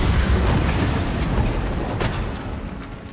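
A Bombarda explosion spell goes off in Hogwarts Legacy: one loud, booming blast with crackling debris that slowly fades over a few seconds, with no voices.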